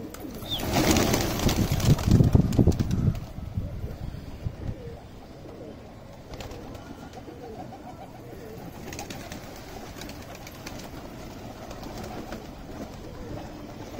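Gola pigeons coo softly and repeatedly in the background, following a brief burst of wing flapping or rustling at the start.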